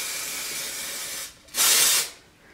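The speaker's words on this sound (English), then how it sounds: "I'm going to shake it and then spray." Spray-on Nails Inc glitter nail polish hisses from an aerosol can in one loud, steady burst of about half a second, following a softer continuous hiss that fades out just before it.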